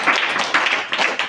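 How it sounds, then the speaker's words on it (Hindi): Applause from an audience at a children's general-knowledge quiz contest, a steady patter of many hands clapping together, fairly close and continuous. "ताली बजा दीजिए।"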